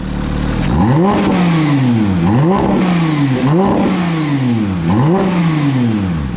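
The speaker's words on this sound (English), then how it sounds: "the sport exhaust in this car turns on, and it's quite nice. Take a listen." A 2020 Porsche 911 Speedster engine revs repeatedly in a steady rhythm through its sport exhaust, each throttle blip rising and falling with a loud, raspy note, close by.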